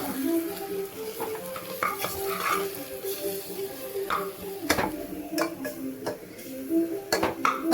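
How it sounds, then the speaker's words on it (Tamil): A spoon scrapes and clinks around a pan as tomato rice mixed with garam masala is stirred, giving repeated close scraping strokes over a faint sizzle, with a few sharper metallic knocks. "நல்லா கலந்து விட்டுக்கலாம்."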